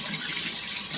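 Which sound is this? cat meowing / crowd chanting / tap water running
tap water running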